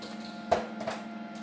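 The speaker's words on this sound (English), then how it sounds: "I'll center punch these" Two sharp metallic taps, a fraction of a second apart, from a center punch marking spot-weld holes in a Holden HQ coupe sill panel, close and crisp over a steady low hum.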